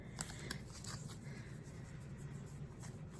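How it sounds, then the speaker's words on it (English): A deck of cards being shuffled by hand, quiet close riffles and soft flicks with a faint steady background hum. "half-ass shuffling, the best that I can do."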